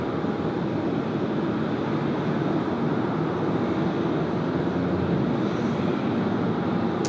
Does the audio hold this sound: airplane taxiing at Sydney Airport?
yes